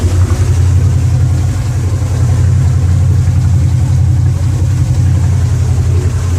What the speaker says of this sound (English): Sure going to take a while to get used to the sound of that noise, that engine.